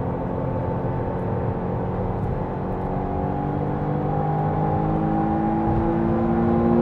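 A McLaren Artura's engine at partial throttle on a mountain road, a steady droning whir that rises slowly in pitch and grows a little louder, heard from inside the car with no talking.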